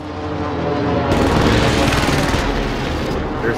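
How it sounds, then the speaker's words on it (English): Video game airstrike explosions: a loud, dense roar of blasts bursts in after a second and rumbles continuously to the end, filling the whole mix. "There's airstrikes on the mine."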